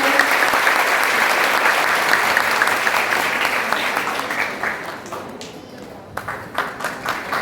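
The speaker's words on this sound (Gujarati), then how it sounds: "જોરદાર તાળી આપીને" A hall audience at a conference for ASHA health workers in Viramgam bursts into loud, sustained applause, which thins out after about five seconds into a few scattered closing claps.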